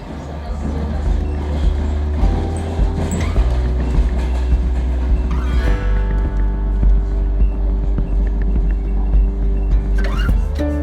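A passenger train rumbles steadily along the rails through the Belarus countryside, a constant low drone and rhythmic clatter heard from inside the carriage over muffled background noise.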